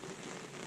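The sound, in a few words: rain falling while fishing for giant river prawns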